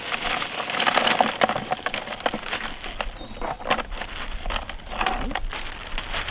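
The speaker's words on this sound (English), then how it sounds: "I like to just pour the ice in." Ice being poured from a bag into an old-fashioned ice cream maker, a close, crunchy clatter of cubes tumbling and crackling in irregular bursts, loud and busy throughout.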